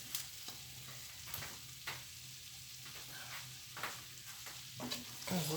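Lamb and onion frying in a tagine, a low steady sizzle punctuated by scraping clicks as the meat is turned, close but quiet.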